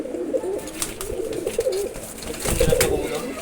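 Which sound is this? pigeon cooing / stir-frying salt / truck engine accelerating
pigeon cooing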